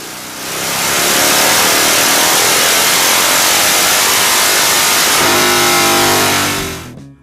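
A street motorcycle fitted with drag pipes and thumb-screw baffles roars at full throttle on a dyno, a loud, sustained, raspy run of about six seconds with a shift in tone near the end, very close.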